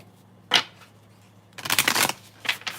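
Cards are shuffled in short bursts, a quick riffle, then a longer flurry of shuffling and a brief final snap, close up.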